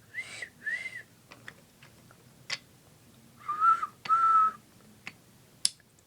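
Two pairs of short, bright whistles, the second pair lower and louder, separated by quiet gaps with a few sharp clicks and taps.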